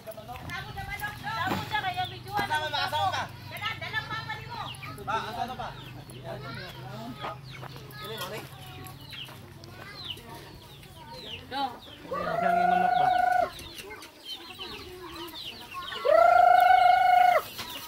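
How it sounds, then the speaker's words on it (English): Many chickens cluck and squawk together on a family farm in Hagonoy, Philippines, with a couple of louder drawn-out calls standing out near the end over a busy farmyard background. "Lots of chickens."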